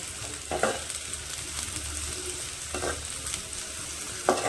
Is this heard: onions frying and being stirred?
yes